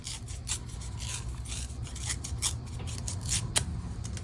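Paper cardstock is torn backwards for a handmade sparkly New Year card, making a close, continuous rasping rip with brief scratchy pulses throughout.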